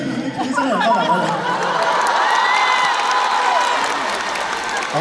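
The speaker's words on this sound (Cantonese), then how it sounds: "俾啲掌聲俾企起身嘅人幫埋我哋" Loud, sustained applause and cheering fill an arena crowd at a live concert on the Lava tour, with chatter and shouts mixed in throughout.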